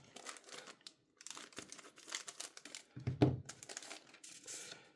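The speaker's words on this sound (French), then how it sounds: "je vais juste déballer la notice." Crinkling and tearing of paper packaging as an instruction leaflet is unwrapped from a Takara Tomy Beyblade X CX-01 Dran Brave toy box, close and fairly quiet in short rustling bursts with a sharper crunch midway.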